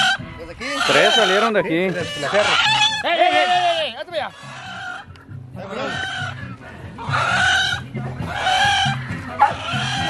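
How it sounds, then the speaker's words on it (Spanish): Hill chickens and roosters crow and cluck repeatedly in a rural farmyard, loud and close, with overlapping calls and people speaking between them. "Hay gallinas de cerro."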